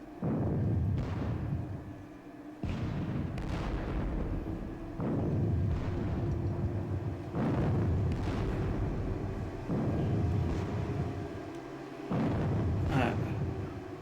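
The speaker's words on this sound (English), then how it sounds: "Russian artillery is really starting to take its toll." Artillery fire in the Napoleonic wargame Battle of Friedland, a series of heavy booming blasts at regular intervals with decaying rumbles, loud and repeated over a continuous low background.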